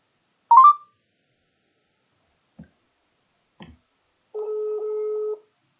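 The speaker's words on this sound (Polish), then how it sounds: "Dzwonię do Wery, znaczy odblokowuję teraz telefon." Phone call placed on speakerphone: a short ringback tone, two faint clicks, then a longer steady tone, each separated by silence.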